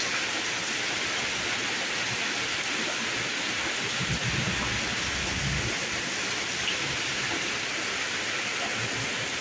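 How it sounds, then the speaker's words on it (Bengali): Heavy rain pours steadily outside a rural home in a village, a dense, even hiss of downpour close by with a brief low rumble midway, no voices. "এই দেখুন প্রচুর পরিমাণে বৃষ্টি।"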